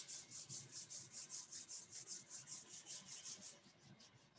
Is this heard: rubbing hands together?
yes